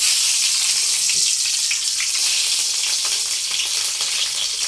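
Cumin seeds and green chillies frying in hot oil, a loud, dense, continuous hiss and crackle that holds steady throughout, close up with no voices.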